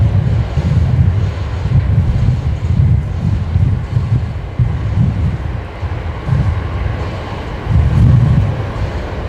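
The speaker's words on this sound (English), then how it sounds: "the wind is got me all over the place" Strong wind at Brisbane Airport buffets the microphone with a steady, loud, low rumble that swells and gusts unevenly throughout, and no voices are heard.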